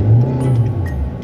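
A car engine revs as the driver presses the gas on an uphill stretch, a loud, close, low drone that swells and holds briefly.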